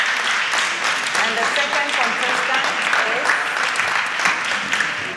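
An audience claps steadily for several seconds, a dense wash of applause with a voice briefly speaking over it.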